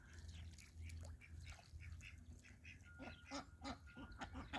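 Several Cayuga ducks quack in bursts, close by and overlapping, with a steady low outdoor rumble underneath.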